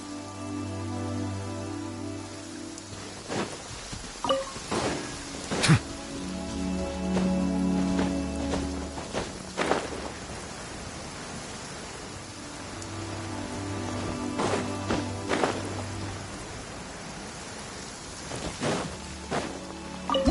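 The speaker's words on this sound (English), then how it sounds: "This heavy rain must be quite an inconvenience for you." Steady heavy rain pours in Genshin Impact, a dense hiss running throughout, with sharp clicks and thuds scattered over it.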